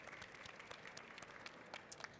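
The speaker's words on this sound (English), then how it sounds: "Please give her a round of applause." An audience claps for a guest at a talk, a faint, distant patter of applause that stays steady for a couple of seconds.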